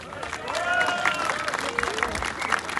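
Audience applause and crowd noise at a French Les Patriotes political rally, steady and fairly loud for about three seconds, with voices and cheering mixed into the clapping.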